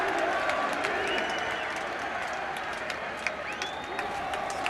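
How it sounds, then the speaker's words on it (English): Stadium crowd of home football fans at a Cliftonville v Celtic match, a steady broad murmur with the odd brief cheer rising out of it, while a commentator talks over the top. "the odd sarcastic cheer, I think, from the home fans"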